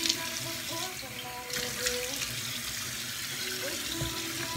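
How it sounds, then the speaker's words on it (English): Water runs steadily from a bathroom sink faucet during a quick face wash, a continuous close splashing stream with small clinks and shifts in the flow. "let's go ahead and wash my face just real quick"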